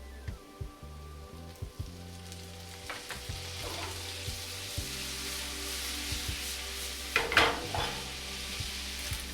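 Butter sizzles steadily in a hot pan for shrimp scampi, with a close, continuous frying hiss broken by occasional scrapes and stirring bumps, and no talking.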